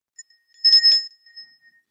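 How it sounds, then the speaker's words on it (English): A small bell rung twice in quick succession, each strike leaving a clear ringing tone that fades over about a second, alone against silence. "Ringing a bell makes a sound."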